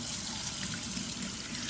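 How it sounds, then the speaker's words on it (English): Tap water runs steadily into a kitchen sink while greens are washed, a continuous close splashing hiss with no talk. "my second time I wash them, I am going to have my water running."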